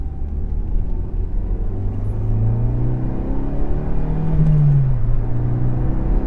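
A 2002 Renault Twingo with a 1.2-litre engine accelerates from inside the car, a loud droning rumble that climbs steadily in pitch, dips briefly at a gear change, then carries on.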